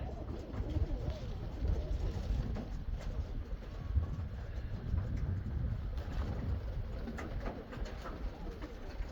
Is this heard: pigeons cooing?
yes